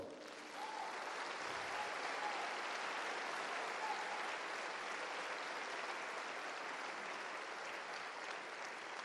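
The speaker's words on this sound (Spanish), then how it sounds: "Denle otro aplauso al Señor." A church congregation applauds, a sustained wash of many hands clapping that swells in after a brief quiet start and holds steady and fairly loud throughout, with no speech on top.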